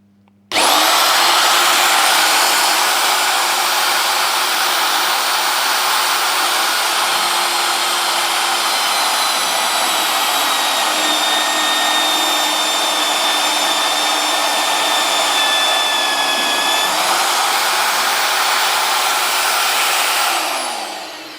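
A magnetic drill bores a hole through metal, a loud continuous motor whine with cutting tones that runs steadily for about twenty seconds, starting abruptly and winding down at the end, with no voices.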